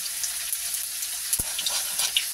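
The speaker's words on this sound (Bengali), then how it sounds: "এটা একটুখানি ভালো করে ভেজে নিই।" Panch phoron and a dried chilli fry in hot oil in a home kitchen, a quiet continuous sizzle with one sharp clink partway through and soft crackles scattered across it.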